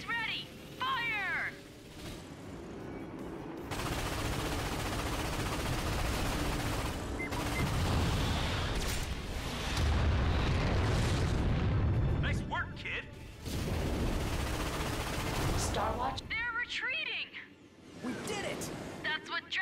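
Heavy booming blasts and rumbling bursts roll on in waves from an ion cannon in the video game Ratchet & Clank, with voices and synthetic effects between the barrages.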